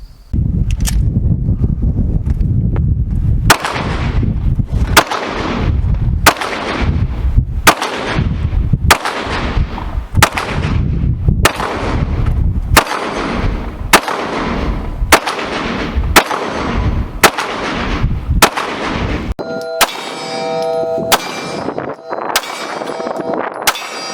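Shots from a PSA Rock 5.7 pistol and a Sig Sauer X-Carry Legion 9mm ring out one at a time in a slow, evenly spaced string of about fifteen loud, sharp reports, with a ringing clang near the end.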